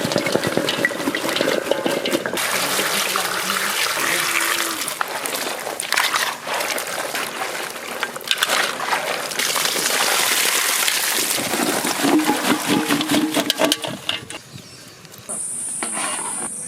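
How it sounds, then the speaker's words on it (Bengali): Mixed vegetables rinsed under a running kitchen tap, a steady loud splashing rush of water with clattering as pieces are turned, briefly quieting near the end. "সব সবজিগুলো আবার ধুয়ে নেব।"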